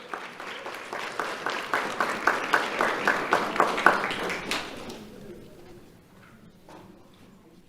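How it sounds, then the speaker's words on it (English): An audience at a sheriff's office awards ceremony claps in a brisk, dense burst that swells and then tapers off after about five seconds, leaving a quieter room with scattered faint sounds. "Let's have a round of applause for Jaylene Soto."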